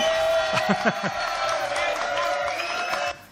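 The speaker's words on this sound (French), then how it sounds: "Applaudissements, s'il vous plaît, merci." Studio audience on a French television talk show cheers and applauds, a steady wash of crowd noise lasting about three seconds under a sustained musical tone, then cutting off abruptly.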